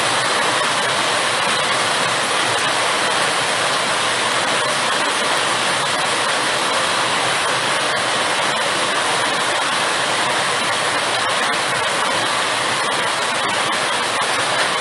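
Floodwater roars down the mountains of Lopino in Trinidad during nationwide flooding from tropical storm Grace, a loud, steady, unbroken rush of water that fills the whole stretch with no voices.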